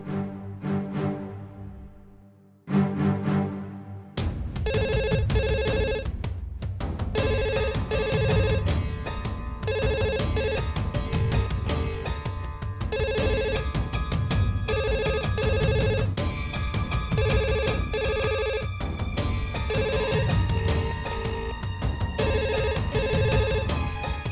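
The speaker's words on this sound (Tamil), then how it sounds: "லேண்ட்லைனுக்கு ட்ரை பண்ணலாம்." A landline telephone bell rings repeatedly in steady bursts, loud and close, continuing for over twenty seconds with no one speaking.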